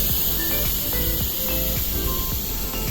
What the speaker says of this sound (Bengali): 3-4টে সিটি হয়ে গেছে, এবার আমি খুলে দেখে নেব।